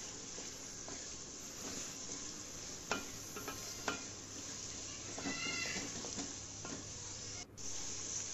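Four sliced onions fry in oil in a pan for a mutton masala curry, giving a soft, continuous sizzle broken by occasional scraping and clicking from stirring.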